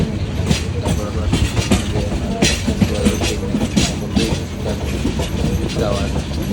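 A passenger train on the Sylhet to Chittagong line in Bangladesh rattles along, its wheels beating a steady, loud clickety-clack rhythm heard from on board.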